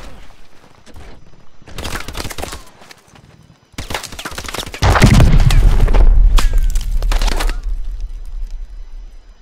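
Gunfire from the video game Call of Duty: Advanced Warfare, on the mission Throttle: loud, rapid bursts of automatic fire broken by short pauses, then a heavy booming rumble that swells and slowly fades.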